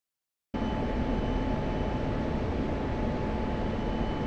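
An F-16 jet in a flight simulator game flies in to land, a steady broadband engine roar with a faint tonal whine that starts abruptly and holds constant to the end.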